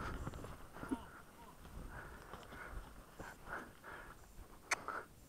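Ponies' hooves clip-clop on the ground, faint and irregular under steady outdoor background noise, with a few sharper knocks near the end.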